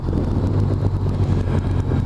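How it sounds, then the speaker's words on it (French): A Honda Crosstourer 1200 motorcycle rides along, a steady low engine rumble mixed with wind buffeting over the microphone, continuous and close, with no talk. "on est donc sur le trail routier de Honda, le Cross Tourer 1200"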